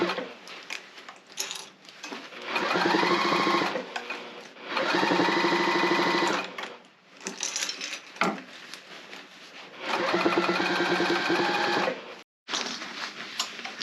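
A sewing machine stitches a tote bag with a recessed zipper in several short bursts of a few seconds each, stopping between runs while the fabric is rearranged and flattened around clips.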